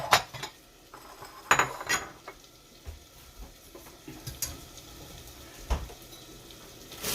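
Plates and bowls clink as they are taken out and set down in a kitchen, with sharp clatters of dishware and cutlery at irregular intervals over a low background hum.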